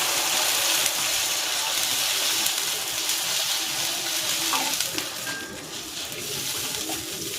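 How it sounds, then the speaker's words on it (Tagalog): Water poured from a container into a cooking pot for cabbage noodle soup, a steady close hiss and splash running throughout with no talk. "Maglalagay na ako dito ng tubig."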